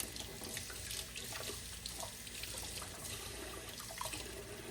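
Tap water runs steadily onto rose bushes to rinse aphids off the blooms, a continuous soft splashing and hiss, fairly faint and with no talking.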